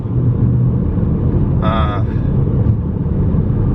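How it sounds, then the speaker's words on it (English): A car drives along a highway in a 110 km/h zone, giving a loud, steady low road-and-engine rumble throughout, with a brief tonal sound near the middle. "I'm currently driving in a 110 km/h zone"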